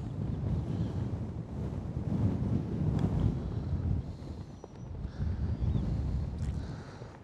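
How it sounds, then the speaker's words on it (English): Strong gusty wind on a golf course buffets the microphone, a continuous loud roaring rumble that swells and eases with no speech. "That wind is just brutal."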